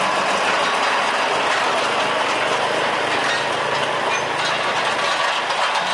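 An amphibious sugar cane railway locomotive, number 02, rumbles past a level crossing in Turi, giving a loud, continuous mechanical drone with rattling and clanking running through it.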